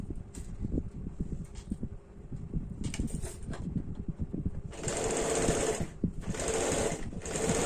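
A sewing machine stitches the seam of a deep-neck kurti, joining body and sleeve fabric, with two sustained loud whirring runs in the latter half after quieter handling sounds and brief starts.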